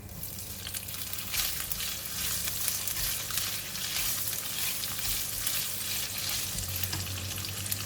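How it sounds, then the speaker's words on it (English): Tofu fries in a pan with a loud, continuous sizzle and crackle that holds steady throughout, with light stirring beneath it. "we're going to now fry the tofu"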